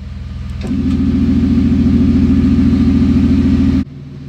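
A car engine with its exhaust valves opened bursts into a loud, deep, steady roar after a quieter start, holds that note for several seconds, then drops sharply to a lower running sound.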